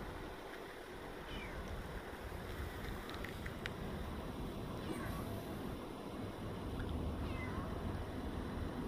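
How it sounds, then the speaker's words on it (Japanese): Several faint, short meows come from a cat at a distance at the Shin-Keiyo substation, scattered over steady outdoor background noise. "猫いますね。"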